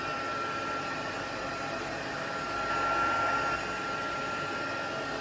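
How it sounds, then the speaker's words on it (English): A heat tool blows steadily to dry a watercolor card panel on a heat-resistant media mat, giving a constant close airy whir that holds at one level throughout with no talking. "So I'm going to dry this really quickly so that we can stamp it."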